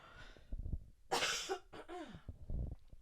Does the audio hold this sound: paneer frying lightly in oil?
no